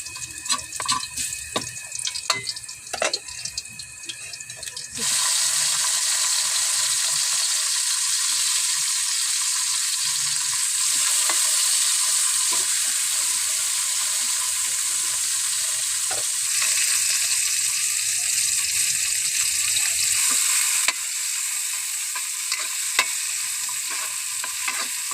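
Sardines and sweet potato tops sauté in a pan with a loud, continuous sizzle that starts abruptly and holds steady, with a few scrapes of stirring near the end.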